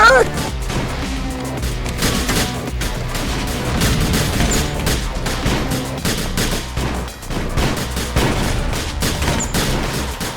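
Rapid gunfire and booming explosions from a GTA video game, dense bursts of shots and crashes in quick succession, loud and continuous, with voices mixed in.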